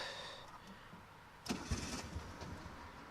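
A warm Chevrolet Sprint Turbo engine starting after a quiet lull, a brief cranking whir followed by the small engine catching and settling into a rough, uneven idle close by.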